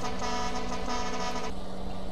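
Car horn honking in the video game GTA San Andreas, a sustained steady toot with harmonic tones lasting about a second and a half over continuous engine and road noise.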